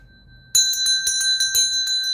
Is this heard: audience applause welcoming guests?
no